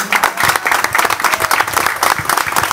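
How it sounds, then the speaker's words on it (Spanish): Applause from a crowd at an anniversary celebration in González, Tamaulipas, a loud, dense, continuous clapping close by with no voices over it. "Un aplauso para Los Ajúa,"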